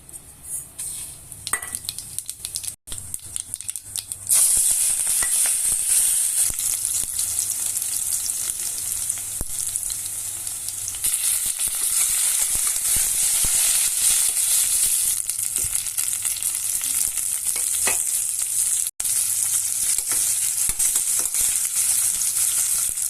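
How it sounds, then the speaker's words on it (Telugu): Cinnamon and cloves frying in hot ghee for masala kichidi, a steady bright sizzle that jumps louder after a few seconds and keeps crackling close and continuous. "చెక్క, లవంగా వేసాను."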